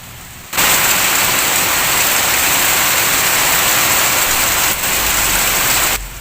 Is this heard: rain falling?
yes